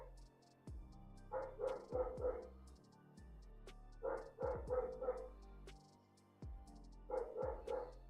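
A dog barks persistently in the distance, giving three clustered bursts of several quick barks each, separated by pauses, faint and slightly echoing over a low background hum.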